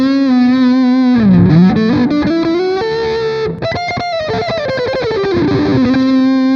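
Electric guitar through an Amplitube 5 Mesa Boogie Mark IV amp: loud, distorted sustained notes with sliding bends and a quick strummed flurry in the middle, ringing out alone.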